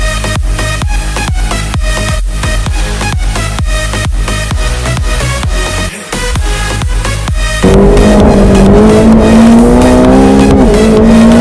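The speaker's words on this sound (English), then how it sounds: "let's take a hot lap on the track now" A 2018 McLaren 720S sports car on a hot lap at Auto Club Speedway, engine loud and close with steady harmonic revving, a brief dip and gear change, then a higher sustained engine pitch.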